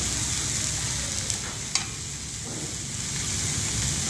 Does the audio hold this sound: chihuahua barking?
no